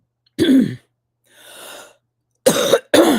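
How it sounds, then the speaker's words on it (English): A person coughs and clears their throat, with a short harsh burst, a breathy exhale, then two more rough throat-clearing sounds close up. "try one more time to clear my throat"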